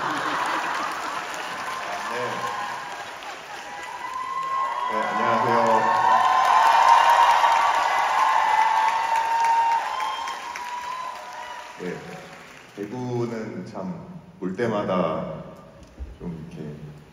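A concert crowd applauds and cheers at an encore, building to a dense roar of clapping and whoops that fades into scattered claps and shouts, with someone talking over it at the start and near the end.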